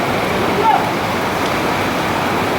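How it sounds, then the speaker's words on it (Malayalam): Floodwater rushes through a river at Mundakkai in Wayanad after a landslide, near a bridge. It makes a loud, steady, close roar that never lets up for the whole stretch. "ആ ലെവലിലാണ് ഇപ്പോൾ വെള്ളം ഒഴുകുന്നത്"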